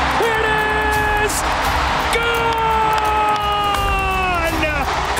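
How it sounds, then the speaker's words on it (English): Baseball crowd roaring and cheering at a Dodgers postseason game, a dense sustained wall of voices with shouts and whoops rising and falling, loud and close throughout. "The roar of the crowd"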